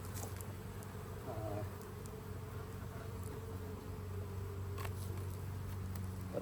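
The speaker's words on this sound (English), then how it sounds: "the bees are getting a little feisty" Honey bees buzzing around an opened hive during a honey harvest, a steady low droning hum with occasional sharper passes of single bees close by.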